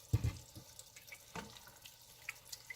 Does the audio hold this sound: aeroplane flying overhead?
no